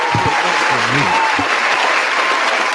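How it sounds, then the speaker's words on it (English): Audience applause fills the whole stretch as a dense, steady wash of clapping, loud and close, with a voice talking briefly over it. "Clap it up for me"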